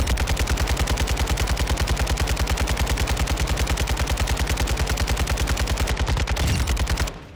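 An RPK light machine gun in Warzone 2.0 fires one long sustained burst, loud and rapid with evenly spaced shots, stopping abruptly near the end.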